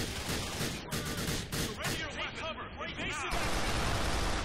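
Rapid gunfire and crackling shots in GTA 4: The Lost and Damned, a dense continuous barrage of game combat sound with no gaps, loud and close throughout.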